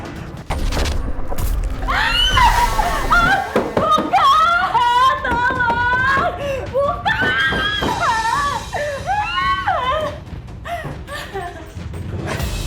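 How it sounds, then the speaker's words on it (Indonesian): A woman screams repeatedly in a horror drama series, with long wavering high-pitched shrieks and cries that rise and fall over several seconds, loud and close, mixed with dull thumps and eerie background sound. "kamu apain perempuan itu? Sampai menjerit-jerit."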